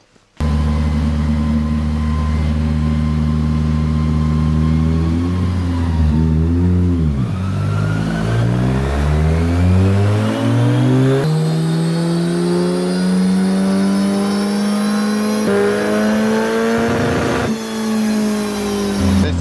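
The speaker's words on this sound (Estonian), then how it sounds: "nüüd Lauri pani Dünosse kinni ja hakkame kraunutama" A camper van engine on a dyno revs hard and steadily climbs in pitch, holding loud sustained roars with brief dips between gear-like shifts, close and continuous without voices.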